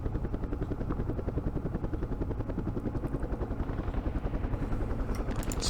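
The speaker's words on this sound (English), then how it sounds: "Let's move our gunships up." Helicopter gunships move forward in the Vietnam War strategy game Campaign Series Vietnam, with a steady, loud rotor thump beating at an even fast rhythm from start to finish, with no voices.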